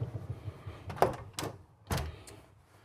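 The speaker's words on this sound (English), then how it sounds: "this does have a nice big full pocket door to close off the bedroom from" A large pocket door in a 2023 Newmar Super Star 4061 motorhome slides along its track, with a few rolling scrapes and soft thumps over a faint background hum.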